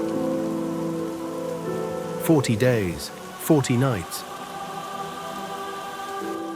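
Heavy rain falls as a constant dense hiss throughout, with someone narrating a biblical flood story over it for a few seconds in the middle.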